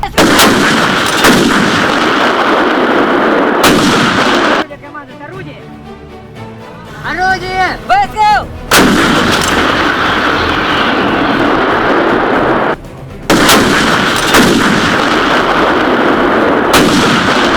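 Heavy Russian artillery fire on Ukraine booms and rumbles loudly and continuously, broken by a short lull where a voice speaks before the barrage resumes.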